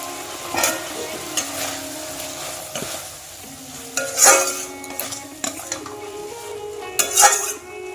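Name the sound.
prawns added one by one to cooking masala, stirred and sizzling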